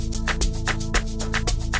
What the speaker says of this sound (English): I have my echo drops, the famous echo drops